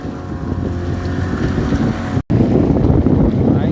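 Strong wind buffets the microphone out at sea on a rough day of fishing from a boat, a loud continuous low roar with one brief dropout partway through.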